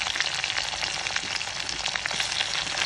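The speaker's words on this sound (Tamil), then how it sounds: "பச்சை மிளகாய் இதை நம்ம நல்லா வதக்கலாம்" Onions and green chillies sauté in hot oil alongside cinnamon, clove and cardamom for a semiya egg biryani, giving a dense, steady sizzle that stays close and unbroken for about three seconds, with no voices.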